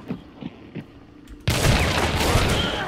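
A few soft thumps give way to a sudden, loud, sustained volley of gunfire in Hunt: Showdown, the shots dense and close for the rest of the moment.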